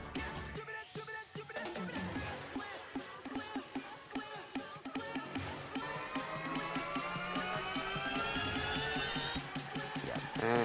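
A Vengeance uplifter effect pitched up twelve semitones sweeps steadily upward in a noisy, shimmering rise over a busy dubstep buildup, with stuttering rhythmic hits underneath that grow denser and brighter toward the end.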